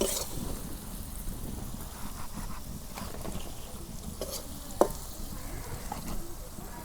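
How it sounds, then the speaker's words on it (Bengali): Cumin and spices frying in oil on a village stove make a soft, quiet sizzle, with light scraping and a single sharp clink partway through. "মশলাগুলা তেল দিয়ে আমি সুন্দর করে কষে নেব।"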